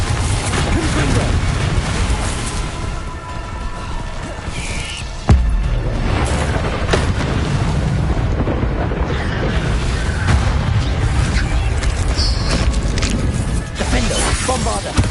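Repeated Confringo spell blasts from the Hogwarts Legacy video game, a dense run of booming explosions and crashes that keeps going the whole time, with one sharp hit partway through and a voice calling out over the noise.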